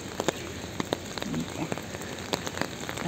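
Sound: rain falling

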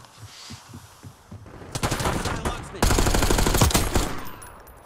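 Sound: assault rifle automatic gunfire, Ames 85, Black Ops 6 video game

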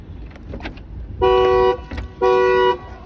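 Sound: car horn honking when door opens

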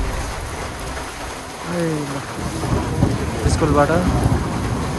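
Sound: heavy rain with thunder

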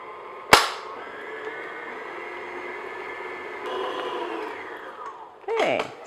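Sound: electric mixer beating shortbread dough on medium speed

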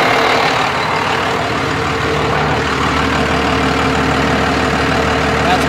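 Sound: Cummins diesel truck engine idling

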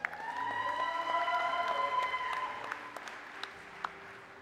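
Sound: cheering and applause

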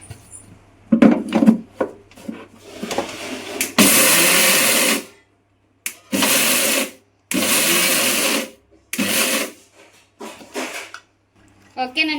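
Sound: mixer grinder coarsely grinding roasted poha

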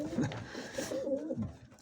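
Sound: pigeon cooing

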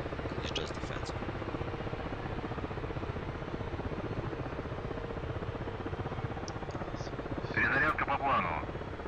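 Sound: Mi-8 helicopter starting up, from a video game

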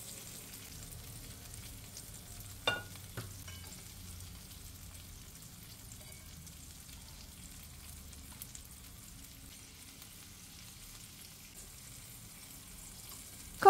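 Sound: zucchini slices frying in a pan

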